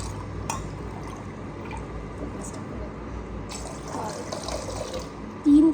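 Water poured into a kadhai on the stove for cooking Korean ramen, a steady close splashing fill with light dripping, with a short voice at the very end.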